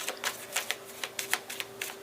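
Tarot cards shuffled by hand in a quiet room, a run of quick, light riffling flutters in an uneven rhythm, close and fairly soft.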